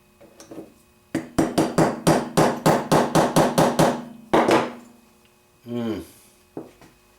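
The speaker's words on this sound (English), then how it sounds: "I'm gonna use this little scratch awl. Hopefully it won't be too hard to get out of here." A small scratch awl is tapped with a hammer to drive a pin out of a 1975 Suzuki TC 185 carburetor: a quick series of about a dozen sharp, close metallic taps in steady rhythm, followed by a few scattered knocks and handling sounds.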